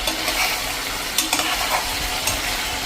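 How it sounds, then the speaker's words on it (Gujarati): Potatoes and onions cook with spices in a pan over medium flame. A continuous sizzle is broken by a few scraping stirs of a spoon against the pan. "આ રીતે આપણે 3 થી 4 મિનિટ મીડિયમ ફ્લેમ ઉપર જ બટેટાને કૂક થવા દેવાના છે"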